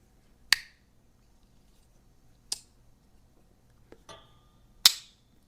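A blue RoseCraft Blades Ocoee River Kayak folding EDC knife snaps through its blade action in four crisp, sharp clicks, spaced out over several seconds and heard alone, close up.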